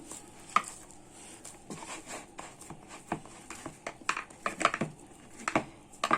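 Porotta dough being kneaded by hand, with soft slapping, pressing and rubbing sounds that come in irregular bursts, close up and fairly quiet, and no talking.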